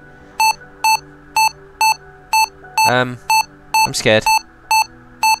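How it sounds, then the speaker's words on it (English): Warning beeps sound from the Re-Entry orbital simulator game: a regular series of short electronic tones repeating about twice a second, while a voice briefly speaks over them partway through. "There's more beeping, though. I'm assuming that's beeping to say you're about to break something."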